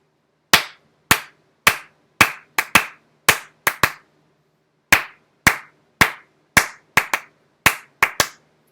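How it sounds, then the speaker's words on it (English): Sharp, close hand claps tap out the rhythm of the Darth Vader theme, grouped in uneven bursts with a short pause midway, each clap crisp and isolated against silence. "Let me clap the rhythm first"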